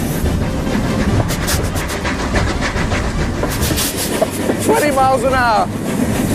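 Stephenson's Rocket, an early steam locomotive, runs at speed along rails with a steady, loud rumble and rhythmic wheel clatter. Someone narrates over it.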